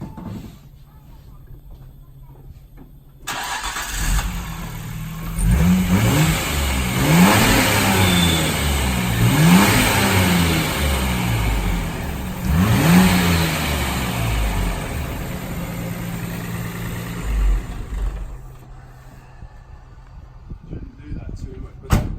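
A Nissan Skyline GT-R R34 M-spec Nür engine, not cooling properly, starts up and revs several times in rising bursts, then settles back toward idle, heard up close.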